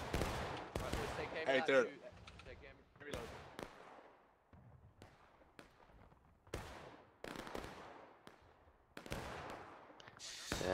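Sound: musket volley gunfire in the video game War of Rights

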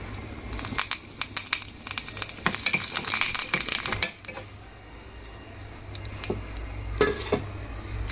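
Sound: chillies, urad dal and curry leaves frying in oil for chutney tempering

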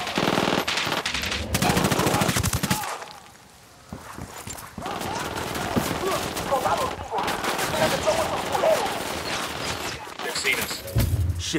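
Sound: gunfire from the video game Ghost Recon Wildlands

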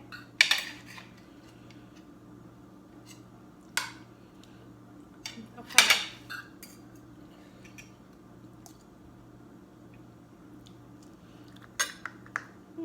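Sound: plate and dishes being handled

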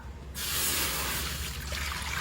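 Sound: water poured for boiling pork skin

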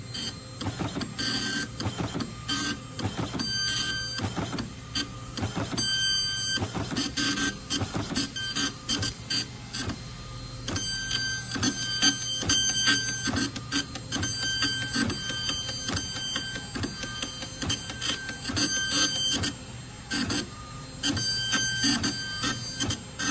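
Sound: Epson LQ-310 dot matrix printer printing a payslip

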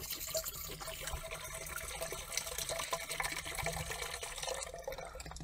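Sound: liquid poured into a garden sprayer

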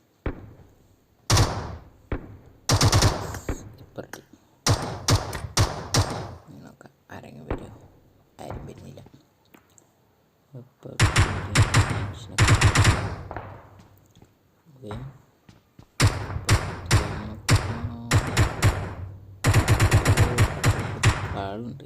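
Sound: gunfire in PUBG Mobile video game

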